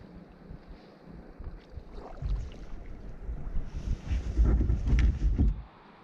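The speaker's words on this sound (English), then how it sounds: "This is me draining out the canoe." Water being drained out of a canoe on the Petawawa River after bottoming on a small rapid: an irregular sloshing, gushing rush that builds louder toward the end and then stops, close, with wind noise and no talk.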